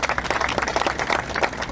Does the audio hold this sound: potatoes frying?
no